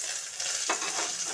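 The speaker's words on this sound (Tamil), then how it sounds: "எண்ணெய் காஞ்சிச்சு வடக கருவேப்பிலை சேர்த்துக்கலாம்" Hot oil crackles and sizzles steadily in a pan as curry leaves are tempered, with a few louder spluttering pops over a continuous hiss.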